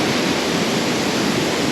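A waterfall about 1,300 feet high in Switzerland plunges into a lake, heard as a steady, close, broadband roar of rushing water with no voices.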